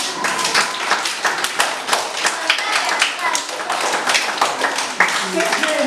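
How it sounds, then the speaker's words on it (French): Children in a school classroom clap together after a read-aloud story, with a dense patter of sharp hand claps lasting throughout, close and fairly loud, while an adult voice talks over the applause. "Est-ce qu'on peut applaudir pour cette histoire?"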